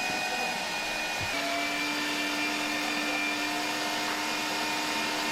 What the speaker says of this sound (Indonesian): ikan tuna yang sudah difilet kemudian digiling menggunakan blender